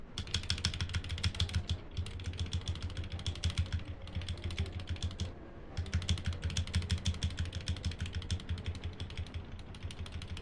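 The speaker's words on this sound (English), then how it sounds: "Sorry if this is very loud. My keyboard is right next to my microphone." Computer keyboard typed right beside the microphone during a game stream, loud dense clacking that runs almost continuously with a short pause near the middle.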